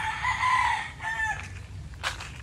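Chickens in a coop beneath a banana plantation, with a rooster crowing loudly and nearby, then clucking and a second shorter call, heard alone without talk.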